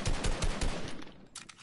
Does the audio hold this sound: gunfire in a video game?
yes